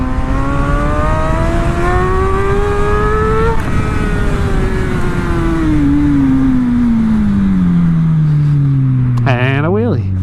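A motorcycle engine revving hard while accelerating into a wheelie, loud and close; the pitch climbs, drops briefly, then falls steadily as the engine eases off, ending in a quick burst of rising whine under wind noise.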